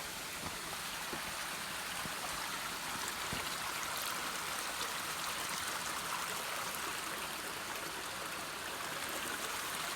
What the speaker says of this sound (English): This is a different creek. It's running a little bit faster, but not bad at all.